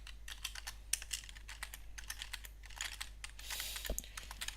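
Rapid clicking of keys on a computer keyboard during coding, a steady close-up patter of quiet taps with a brief rustle near the end.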